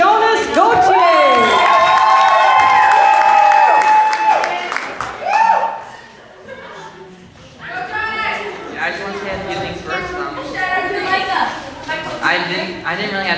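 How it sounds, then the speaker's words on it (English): A loud crowd at a singing contest cheers, whoops and applauds a contestant walking on, with shouting and chatter that swell at first, dip briefly, then pick up again. "round of applause for our next contestant"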